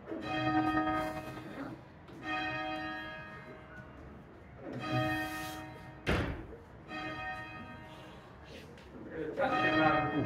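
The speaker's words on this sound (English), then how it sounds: "that's the bell" A church bell rung by rope sounds repeatedly in a tower, each loud ringing peal decaying between dull thunks of the rope and wheel, with a voice talking faintly under it.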